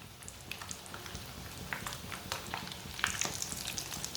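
Potato tikkis coated in egg and vermicelli fry quietly in a pan with a soft, steady sizzle and crackle, plus occasional sharper pops and spatters toward the end.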